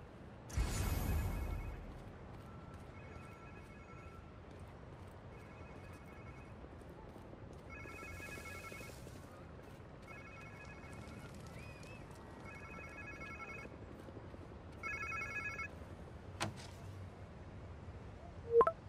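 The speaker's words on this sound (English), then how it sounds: "Sounds like somebody's phone." A phone ringing in the Spider-Man 2 video game, a faint repeated electronic ring in short evenly spaced bursts over quiet background, with a couple of louder thumps.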